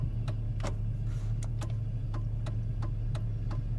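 Steady relay ticks from a 2004 Chevrolet Suburban 4x4 turn signal, a dozen evenly spaced clicks over a constant low engine idle hum, close and clear with no talking.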